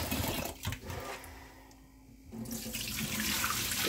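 Tap water runs steadily into a bowl of rice during its final rinse before cooking, a close, continuous gush that dips briefly midway and then swells back to full flow.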